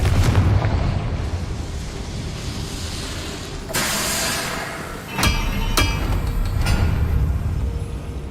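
A Confringo blasting spell explodes in Hogwarts Legacy, a sharp broadband blast over a rumbling ambient bed, followed by a couple of crisp cracks and a lingering roar.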